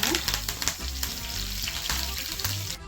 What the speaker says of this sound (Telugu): ఆవాలు చిట్టపట్టిన తర్వాత ఇప్పుడు కరివేపాకు వేసుకుంటున్నాము